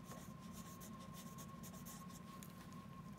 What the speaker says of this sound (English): let's write our objective